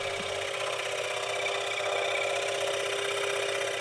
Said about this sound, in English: I was able to get a little bit of Sonja's sawing